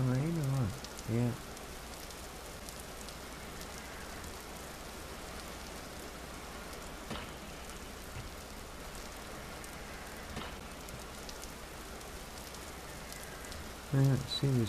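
Steady, even rain pours down in the video game Vintage Story as a constant hiss lasting the whole stretch, with brief louder bumps near the start and end.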